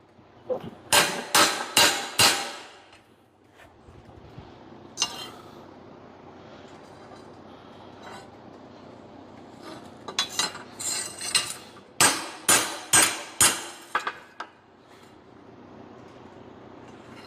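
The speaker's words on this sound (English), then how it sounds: "Let me hit it a little bit with this hammer." Sharp metallic hammer blows strike a Lazer Z mower blade to straighten it, coming in quick bursts of three or four close, loud clanks separated by quieter pauses.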